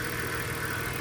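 A car engine idles steadily, a constant low mechanical hum and rumble with no talking.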